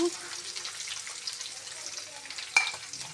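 Curry leaves fry in hot oil for upma, a steady close sizzle and crackle with light stirring scrapes and one sharp clink, no voice over it.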